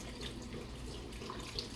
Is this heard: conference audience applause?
no